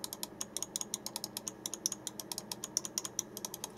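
Main buttons of a Speedlink Kudos Z-9 computer mouse clicked in a rapid, steady series of sharp, light clicks, close and fairly quiet, with no speech.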